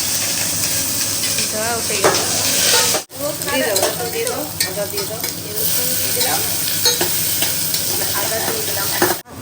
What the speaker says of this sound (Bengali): তেলটা একটু গরম করতে হবে তোমার যে ইন্ডাকশানেই রান্না হচ্ছে তেল গরম হয়ে গেছে তেল গরম এবারে পেঁয়াজ